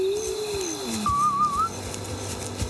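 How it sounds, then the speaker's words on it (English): A character in Mafia Definitive Edition whistles a short wavering tune outdoors in the evening, clear and close, gliding between pitches over a low background hum. "you better quit all that whistling"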